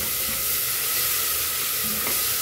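Garlic, bell pepper and onion sizzle loudly and steadily in a hot pan with oil, a dense continuous frying hiss with occasional stirring clicks, close up and without any voices.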